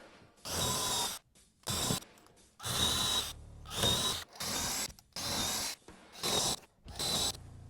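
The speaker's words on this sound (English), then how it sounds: "I can now drill out the remaining 8 pilot holes using the same 7/32 bit" A power drill with a 7/32 bit drills pilot holes in a series of short bursts, about eight in a row, each a second or so long with brief pauses between.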